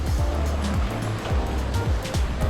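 Surf on Seven Mile Beach, Grand Cayman, with seaweed washed ashore after Tropical Storm Ida: a continuous wash of waves with wind rumble, near and fairly loud, without talking.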